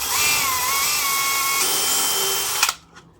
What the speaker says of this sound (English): let's start by aligning that, drilling the holes. You need it to go right through the center of the bottom board.